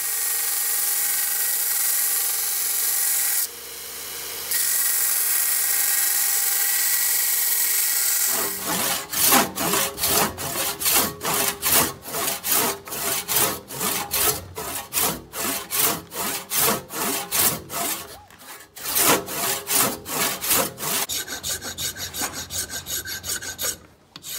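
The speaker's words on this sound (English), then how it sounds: "So I'm going to either cut this down or sand to make my necklace, and then just kind of start shaping it from there." Deer antler is cut by hand for a Mjölnir pendant, a steady rhythmic rasping saw stroke after stroke, close and loud, following a few seconds of quieter handling at the start.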